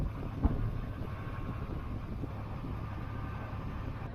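Steady low rumble of a boat motor in Mangalore with wind buffeting the microphone, a single knock near the start, no voices.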